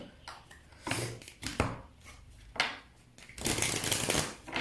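Oracle cards are shuffled up close in a series of crisp, papery riffling bursts with short pauses between them and no talking.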